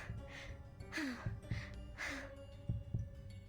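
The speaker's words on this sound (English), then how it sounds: "her heart pounding faster and faster" Heartbeat sound effect in the game Reverse: 1999, a deep, close, steady double-thump pulse repeating under a low hum and airy breaths.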